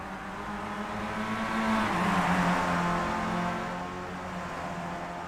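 Formula race cars in the iRacing sim, a Formula Renault-style series on Michelin tires, roaring past in a pack with engine pitch rising and falling as they pass close by, loud and steady with no talk.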